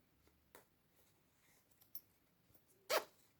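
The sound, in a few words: zipper of travel shoe bag being closed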